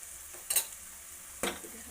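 Chicken pieces frying with softened tomatoes for a chicken curry, with two short bursts of stirring and sizzle against a quiet, steady pan hiss, close by.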